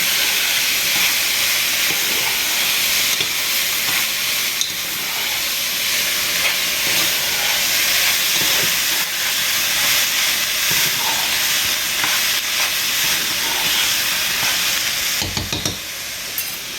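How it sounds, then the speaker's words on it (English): Ground meat fries in a hot pan for a quick no-bean chili, a loud, constant hissing sizzle close by with scattered scraping stirs and a clatter near the end. "So now I'm going to add the ground meat to the seasoning. It's hot."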